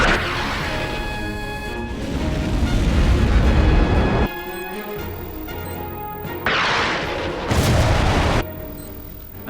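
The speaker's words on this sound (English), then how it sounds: "Missile 1 armed and ready to fire." Tomahawk missile launch and explosion as a film effect: a roaring whoosh builds into heavy rumbling blasts, followed by sharp bursts and crashing impacts that cut in and out, loud and close.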